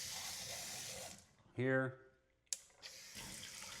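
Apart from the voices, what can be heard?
water running from multi-setting faucet for handwashing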